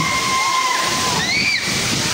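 Steady rushing water from the Penchalakona waterfalls fills the clip, a continuous wash of flowing water with faint tonal whistles drifting over it.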